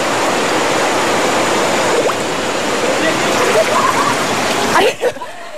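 A fast-flowing river in Padang Pariaman, its broadband rush of current loud and steady from nearby, with small splashes and gurgles throughout and a brief disturbance near the end.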